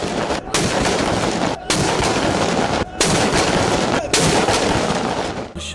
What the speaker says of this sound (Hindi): पाक फ़ौज के दस्तों ने इस्लामाबाद में 31 और सूबाई दारुल हुकूमतों में 21 तोपों की सलामी दी।